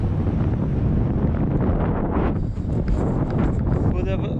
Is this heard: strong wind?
yes